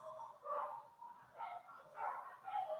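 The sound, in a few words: dogs fighting and barking outside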